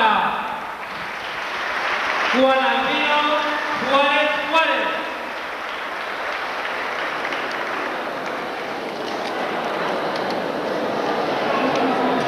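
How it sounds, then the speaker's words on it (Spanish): Applause rolls steadily through a school graduation ceremony at an institute, with a voice announcing a graduate's name over the clapping early on. "Fuertes el aplauso para"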